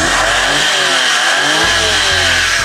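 Close to the open hood, the automatic Suzuki Every Wagon's turbo engine idles loudly, drops off briefly, then surges back with a couple of quick revs, nearby and with no voices.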